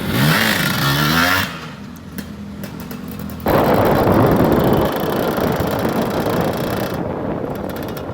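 A restored Suzuki Satria motorcycle engine on a test ride, loud and close, revving up and dropping back, with a brief lull before the engine roar returns strongly and holds steady.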